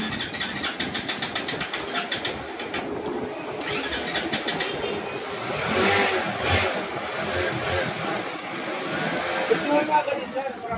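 A Honda NS160 FI motorcycle that would not start cranks with a rapid repeated clatter, catches, and revs up and down at moderate loudness while people talk nearby.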